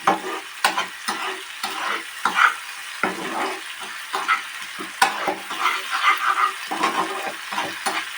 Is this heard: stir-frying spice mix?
yes